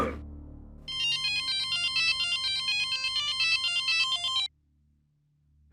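A telephone ringtone plays a steady repeating electronic melody for several seconds, loud and clear, then cuts off abruptly into quiet.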